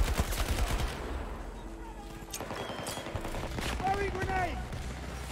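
Gunfire in the shooter game Battlefield 2042, scattered shots crackling amid a busy battlefield din with shifting whines and mechanical noise, moderately loud throughout.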